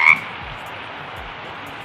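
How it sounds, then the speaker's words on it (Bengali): Frogs croak harshly through steady rain at night in a marshy wetland, a continuous wash of rainfall with low, rough croaks pulsing underneath and a brief louder burst at the start. "বৃষ্টির মাঝে ব্যাঙগুলো যেন আরো বেশি কর্কশ স্বরে ডাকছে"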